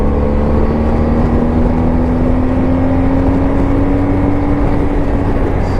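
BMW R1250 GSA motorcycle engine pulling hard on a back country road, a loud steady drone with a tone that slowly rises as revs climb past 5,000 RPM, wind rush constant throughout.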